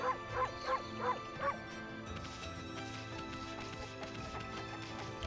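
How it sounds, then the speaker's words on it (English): A wolf in the video game Okami HD barks five times in quick succession, short clear yips over a busy layer of game music and ambient sound that continues after the barking stops. "Oh, there's a bark button."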